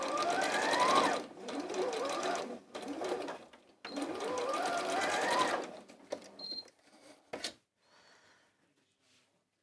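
A domestic sewing machine finishes a skirt seam in quick loud bursts of steady running stitches with short pauses between them, then stops, leaving a few light handling clicks and near quiet.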